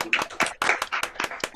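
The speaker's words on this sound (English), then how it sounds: "We'll all applaud you now, Dave, while you're sharing your screen." Several people clapping over a video call, a burst of uneven, compressed hand claps with voices talking over them.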